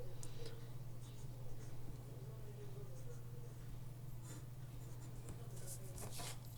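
A pen or marker writes out an equation with faint, intermittent scratching strokes over a steady low electrical hum, the marks coming in short scattered bursts near the surface.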